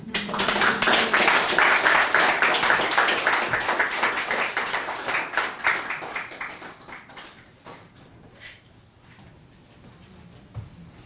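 After a reading at a writers' guild event, an audience breaks into dense, lively applause that gradually thins into scattered individual claps before fading out.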